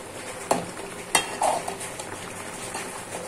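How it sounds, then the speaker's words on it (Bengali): Mushrooms and dried fish sizzling softly in a pan after turmeric is added, stirred with a spoon that gives a few sharp scrapes and clinks against the metal, close and moderate in level. "এখন হলুদ দেওয়ার পর নেড়ে করে দেব"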